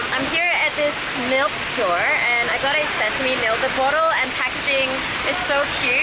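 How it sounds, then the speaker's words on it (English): Heavy rain pours steadily during a thunderstorm, a constant hiss of water on surfaces beneath someone talking close by. "The rain is so heavy right now."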